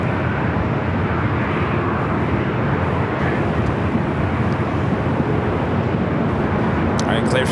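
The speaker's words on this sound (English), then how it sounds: "cleared for takeoff, heading back to Amsterdam, flight 602" KLM flight 602, an airliner bound for Amsterdam, taking off from runway 24 left at LAX, with a loud, steady broadband engine roar throughout and faint talk mixed into the noise.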